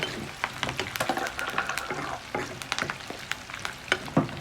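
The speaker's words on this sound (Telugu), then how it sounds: "ఆనియన్స్ ఉన్న దాంట్లో కరివేపాకు వేస్తే పేలవంట గాయ్స్" Curry leaves dropped into frying onions crackle and spit with irregular sharp pops over a hissing fry, close and fairly quiet, with no voices.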